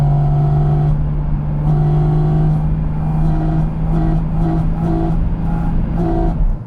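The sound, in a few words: Porsche Cayman GT4 RS engine revving, dynamic intake opening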